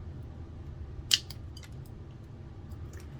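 Scissors give a single quick, faint snip while cutting Dollar Tree craft pieces for candle rings, followed by a few soft rustles against a quiet room hum.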